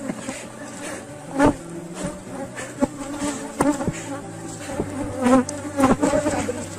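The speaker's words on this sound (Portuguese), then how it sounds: "Novamente, o enxame está bastante agressivo, é normal." Aggressive honeybee swarm at an open hive, a dense continuous buzzing close to the listener with swells and sharp individual bee passes cutting in and out, no talking.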